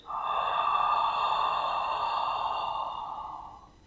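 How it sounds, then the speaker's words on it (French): A steady, airy inhalation through the nose during yoga breathing, a single long breath that swells in quickly, holds for about three seconds, then fades, close and alone with no talk. "on va fermer la bouche et on va continuer la respiration par le nez"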